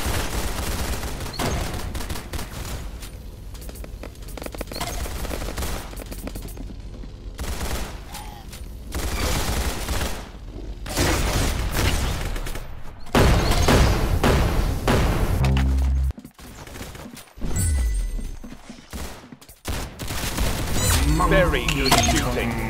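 Bursts of gunfire in a shooting game crackle over and over under excited talk, with heavy booms and brief quiet gaps between volleys.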